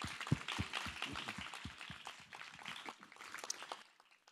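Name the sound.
audience applause for parents and guardians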